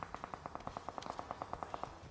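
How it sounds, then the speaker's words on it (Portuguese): Gunfire in PUBG Mobile: a quiet, distant string of rapid shots in steady bursts, about a dozen evenly spaced reports. "eu tô ouvindo tiro lá na esquerda"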